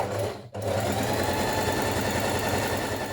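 A sewing machine runs ease stitching along the lower edge of a wrap dress bodice, a steady close motor drone with a rapid needle rhythm, broken by one brief pause near the start before resuming.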